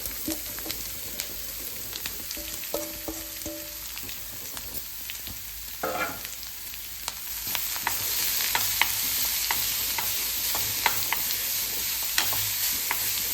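Carrot being stirred and fried in a pan, giving a continuous close sizzle with repeated scraping strokes of a spoon that get denser and louder toward the end.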